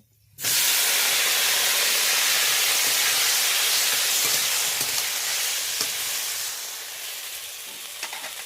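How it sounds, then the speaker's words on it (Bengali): Chopped ripe tomatoes drop into a hot pan of oil and burst into a loud, steady sizzle that hisses on without pause, easing only slightly toward the end, with no talking. "এবারে কেটে রাখা টমেটোগুলো দিয়ে দেব।"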